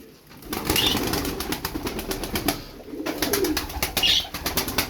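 Tumbler pigeons beat their wings in two rapid bursts of sharp, rattling claps, close by, with soft cooing mixed in.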